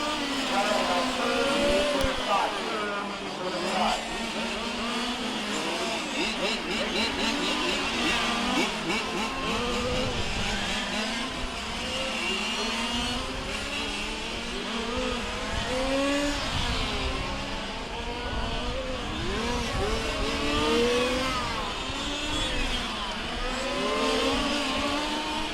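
Large-scale fifth-scale RC race cars compete in the 2015 IFMAR Large Scale World Championships final, their small engines whining and revving in overlapping rising and falling passes at middle distance beneath steady commentary.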